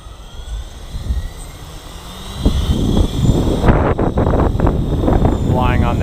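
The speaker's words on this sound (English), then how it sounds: "let's go ahead and spool up and get a flight in" An Align Trex 550 RC helicopter's rotor and motor whine rise steadily in pitch and loudness during a soft spool-up, with gusty wind buffeting the microphone.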